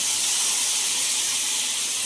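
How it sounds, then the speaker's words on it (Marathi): Water splashed onto onions hisses and sizzles steadily in a hot pan, a loud, close, continuous steaming hiss with no voices. "तर मी इथे थोडंसं पाणी मी टाकणारच आहे"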